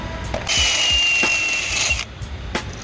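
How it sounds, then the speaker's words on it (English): A step drill bit (unibit) whines as it widens a hole in a metal parking block. The steady high-pitched cut lasts about a second and a half, with brief tool clicks before and after, loud and close. "we're gonna open the hole up with a unibit"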